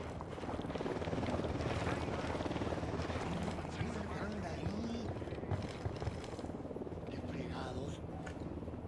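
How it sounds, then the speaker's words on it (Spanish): A helicopter in the video game Ghost Recon Wildlands drones with a steady rotor rumble that holds for several seconds and then fades slightly, while voices talk over it. "Un helicóptero, que no os vea."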